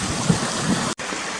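A waterfall and stream rush down a hillside at Cautley Spout in sleet and snow, a constant close hiss of water that drops out for a moment near the end.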